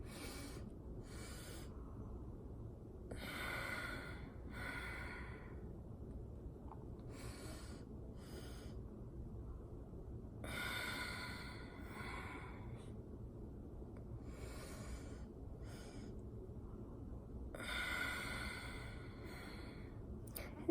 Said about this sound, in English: start by just breathing in 2 breaths, holding for a moment, and then exhaling 2 breaths.